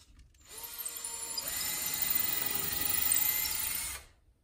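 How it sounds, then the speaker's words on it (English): A power drill whirs steadily, its pitch shifting slightly as it bores holes for a TV wall mount, then stops; close and clear with no talking. "we can go through and drill out our holes"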